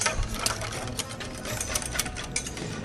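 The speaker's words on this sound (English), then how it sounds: "Some fresh cream in there. Whisk it up a bit." Yogurt and fresh cream are whisked together in a bowl, a fast, rhythmic rattling and clicking close by, steady for a few seconds with no talking.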